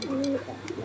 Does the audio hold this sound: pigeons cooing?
yes